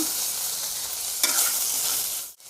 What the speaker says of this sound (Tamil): தக்காளியும் வெங்காயம் ஓரளவுக்கு வதங்கிச்சுங்க